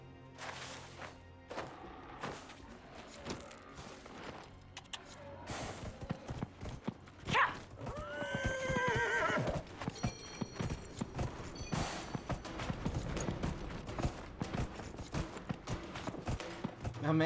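Horse hooves clip-clopping in the fantasy game Dragon Age: Inquisition during a mounted race, a steady rhythmic gait mixed with thumps, a brief whinny and game sounds at moderate loudness.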